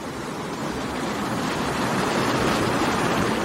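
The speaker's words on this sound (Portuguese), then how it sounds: "Olha o barulho das águas." Water rushing steadily in Cambuí creek, a continuous broadband roar filling the whole stretch with no pauses or voices.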